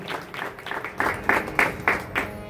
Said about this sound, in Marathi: एकदा जोरदार टाळ्या आमच्या दुर्गेश दादांसाठी वाजूयात.